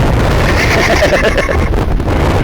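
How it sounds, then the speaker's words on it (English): Strong wind from Storm Katie buffets the microphone with a constant heavy roar, steady and loud throughout, with no clear voices. "here we are, still windy"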